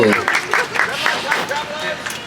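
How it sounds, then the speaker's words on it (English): Audience applause with scattered cheers from a crowd on the Universal Studios Hollywood studio tour, a dense, steady wash of clapping lasting a couple of seconds. "Give yourselves a round of applause."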